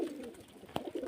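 Pigeons of fancy pedigree breeds kept in a loft in cold weather, giving soft low cooing that runs steadily through the moment, close by, with one brief sharp knock or flutter partway through.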